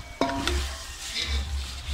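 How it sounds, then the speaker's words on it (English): A pot of seasoned pilau is stirred with a utensil, giving soft scraping sweeps over a low, steady sizzle, with a sharper clack near the start; the sound is close and continuous, with no one talking. "And now I want to stir."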